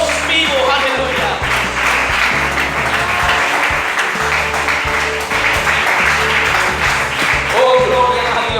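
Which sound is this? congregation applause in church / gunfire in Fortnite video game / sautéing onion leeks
congregation applause in church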